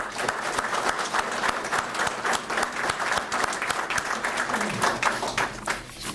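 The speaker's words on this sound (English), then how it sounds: "And I would just ask you to give them a warm round of applause." Warm applause from a ceremony audience honoring EMS paramedics at a New Castle County promotion event, steady dense clapping sustained throughout without talk.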